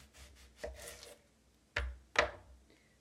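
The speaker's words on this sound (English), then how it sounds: "now we're gonna cut the onion" A knife cuts through an onion on a board while making salad, with a few quiet soft strokes followed by two sharper, louder chopping knocks near the end.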